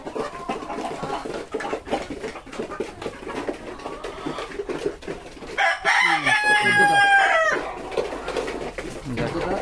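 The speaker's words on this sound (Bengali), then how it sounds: "এই যে মিশরি মুরগি মোটামুটি ভালো" Egyptian Fayoumi chickens cluck around a farm, then a rooster lets out one loud, drawn-out crow near the middle of the clip, with soft clucks continuing around it.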